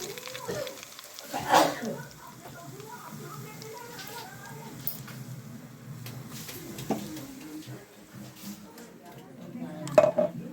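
A spoon clatters against a pot or bowl as mustard seeds are mixed into raw mango pickle in a home kitchen. The scraping and clinking comes in brief irregular bursts at close range, with faint voices in the background.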